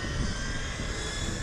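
An L-39 jet at an air race gives off a steady, loud, broadband engine roar with a high whine, continuous and unchanging over a brief moment, heard alone with no voices.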